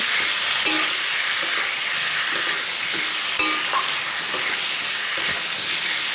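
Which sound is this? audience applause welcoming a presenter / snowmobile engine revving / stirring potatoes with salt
stirring potatoes with salt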